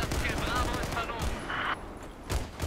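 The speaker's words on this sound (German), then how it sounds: "Oh, ich bin geschossen." Rapid gunfire from the video game Battlefield 4, in a multiplayer Conquest match on the Lancang Dam map: a dense, continuous barrage of overlapping shots and booms. The firing stays loud throughout, then eases slightly near the end.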